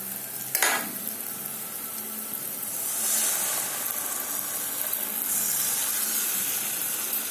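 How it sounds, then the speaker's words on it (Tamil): Tamarind water hits a hot oiled pan with a sharp splash, then a steady loud sizzle and bubbling hiss continue. "இப்போ வந்து இதில் புளி தண்ணி ஊற்றிக்கலாம்"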